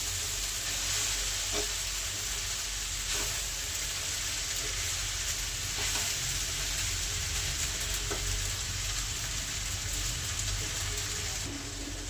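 Atta Maggi noodles being stirred and mixed in a hot pan make a continuous close sizzle with occasional light scraping clicks of the spoon, and no voices.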